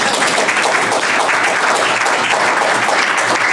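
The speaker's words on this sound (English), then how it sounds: "I want you all to applaud yourself." A luncheon audience applauding themselves, a loud, sustained roar of clapping from a full room that stays thick and constant throughout.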